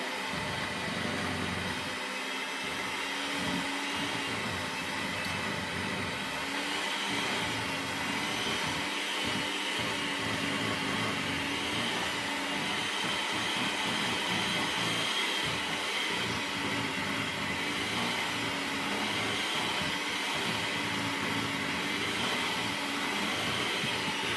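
A kitchen blender runs steadily while mixing bread ingredients, a continuous loud whirring drone with no pauses and no talking.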